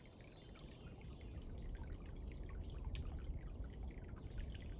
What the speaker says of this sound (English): It's a very nice spring right behind the Priest Shelter. Flowing wonderful.